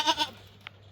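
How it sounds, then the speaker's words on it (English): Goats on a farm let out a quick pair of close bleats, then fall quiet except for a faint click. "Calm down, goats."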